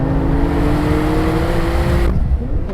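A four-wheel drive car pulls away hard from a standstill, a loud, steady engine roar rising in pitch and then cutting back abruptly near the end.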